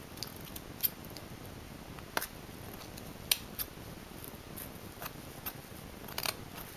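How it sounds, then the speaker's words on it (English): Scissors cutting straight up through the fabric of a homemade seatbelt pillow, a series of small irregular snips, close and quiet with no talk. "and just start cutting straight up."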